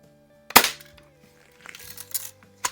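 A single sharp shot from a 1947-49 Daisy Red Ryder model 40 BB gun fires at a target nearby. A scattering of lighter clicks and a second faint crack follow, with no talking.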